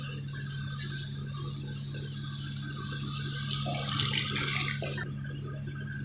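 A small amount of water is poured into frying masala for aloo gobi, a brief splash and trickle partway through, heard over a steady kitchen hum.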